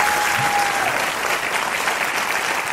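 A studio audience gives loud, sustained applause for a guest on a talk show, a steady even wash of clapping throughout.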